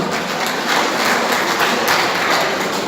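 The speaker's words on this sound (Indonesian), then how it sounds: "Tepuk tangan dulu untuk teman-teman" Audience applause at a Bona Taon celebration in Bandung, a dense wash of many hands clapping that carries steadily for the whole stretch at close, full volume.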